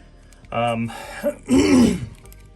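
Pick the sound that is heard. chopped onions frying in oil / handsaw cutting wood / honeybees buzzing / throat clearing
throat clearing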